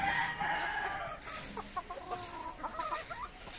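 Backyard flock of chickens and roosters, including gamefowl such as Sweater, Gray and Red Quill, crowing and clucking nearby in a small coop, with several overlapping calls and short bursts.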